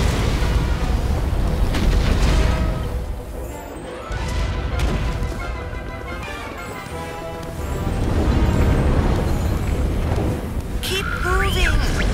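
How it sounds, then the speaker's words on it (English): Explosions in Rush: A Disney Pixar Adventure video game, heavy booming blasts and crashing debris rumbling loudly in waves across several seconds, layered with game music and effects. "I don't want to be anywhere near the explosion"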